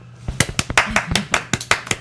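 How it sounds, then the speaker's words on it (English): Scattered hand claps from a small, sparse audience, about a dozen distinct sharp claps in an uneven rhythm, close and fairly loud with no talk over them. "Everybody clap."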